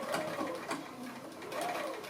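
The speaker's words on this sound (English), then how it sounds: "So I'm just sewing with my 1/4 inch seam." A sewing machine stitches a quarter-inch seam on quilting fabric with a slightly longer stitch, its needle chattering in a steady, close hum throughout.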